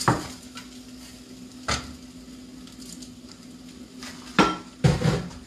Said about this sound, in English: Then now we add the rice to this.